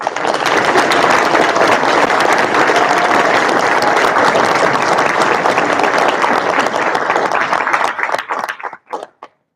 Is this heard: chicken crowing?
no